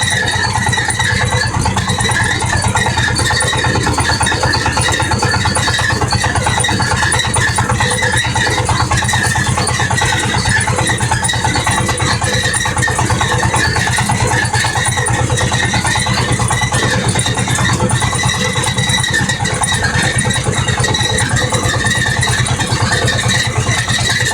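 A mini tractor's engine running at idle, a steady, loud mechanical chugging with a continuous low throb and buzzing overtones that hold unchanged throughout.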